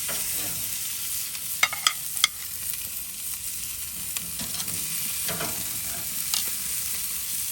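Smoked brisket steaks sizzle butter side down in a hot pan, a steady close frying hiss with a few sharp crackles and pops, no talking.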